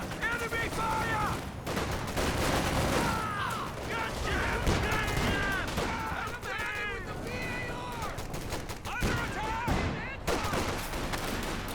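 Bursts of gunfire and explosions erupt in the World War II strategy game Company of Heroes 2, dense and repeated over a busy battle bed, with in-game voices calling out and a commentator talking.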